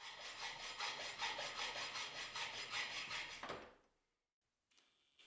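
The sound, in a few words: hacksaw cutting T-track to length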